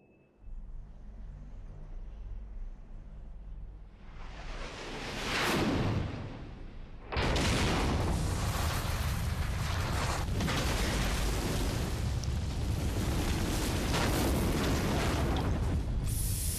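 A massive explosion of a system in the game Zone of the Enders 2 during a boss fight against Anubis: a low rumble builds into a rising whoosh, then a huge sustained roar of blast and debris that stays loud to the end, with no talking.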